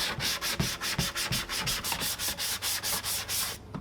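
Steady rhythmic scuffing of sandpaper against the inside wall of a plastic trash can, about two strokes per second of loud, close rasping that stops abruptly at the end, with no talk.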